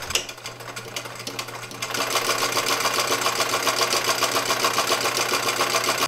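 A sewing machine starts up and runs steadily with a fast, even mechanical whir and rapid clatter, loud and close.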